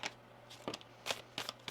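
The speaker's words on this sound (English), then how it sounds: "One more shuffle here." Tarot cards are shuffled by hand during a reading, giving several short, crisp riffling bursts at irregular intervals, fairly close and quiet, with no talking.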